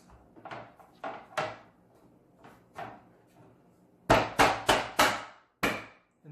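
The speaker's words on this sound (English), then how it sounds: "we can slide our plastic corner into the groove on the head of the screw" Plastic corner piece of an Emperor unit sliding into the groove on a screw head and knocking into place, heard as a few soft clicks followed by a run of sharper, louder knocks near the end, with no talking.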